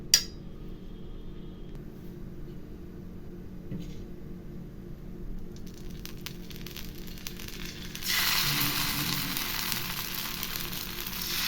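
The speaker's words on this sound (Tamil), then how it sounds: "இப்போ மாவை எடுத்து ஊற்றி சூப்பரான தக்காளி தோசை நம்ம செஞ்சு சாப்பிட்லாம்." Tomato dosa batter meets a hot, lightly oiled dosa griddle, and a broad, steady sizzle suddenly swells and holds loud after a quieter stretch of faint clinks and kitchen noise.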